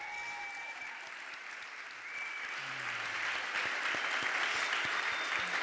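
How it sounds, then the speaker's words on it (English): Applause from a live music audience swells gradually from quiet to fuller clapping, distant and fairly soft, with a few brief tones and murmurs underneath. "Can we give Curtis another round of applause?"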